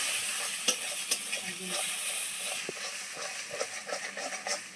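Egg stirred together with ghetkol leaves in a frying pan, a steady loud sizzle and hiss running throughout, broken by repeated scraping and tapping strokes of the spatula against the pan.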